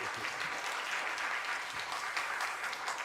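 Church congregation applauding in welcome during a Sunday afternoon service, a steady wash of many hands clapping continuously throughout, fairly full and even without pauses.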